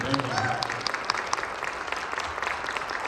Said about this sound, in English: Give a round of applause for Eric Dillon.